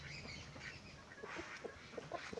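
Ducks kept among free-range country chickens at a home poultry yard quack in short, faint bursts at a distance, with soft bird calls around them and no talk.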